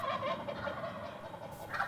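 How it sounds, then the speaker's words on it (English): A flock of turkeys gobbles in a backyard, rapid warbling calls overlapping at moderate distance and fairly faint, with a higher, sharper gobble near the end. "And then I saw the turkeys."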